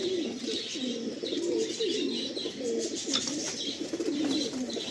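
Pigeons in a loft coo repeatedly in overlapping, rolling calls, with a few higher chirps mixed in, close by and steady throughout.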